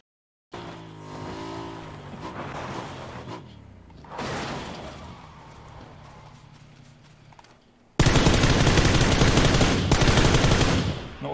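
Gunfire from a shooter video game, with bursts of rapid automatic fire and engine or vehicle noise. The firing gets much louder and denser near the end, and a voice is heard faintly near the start.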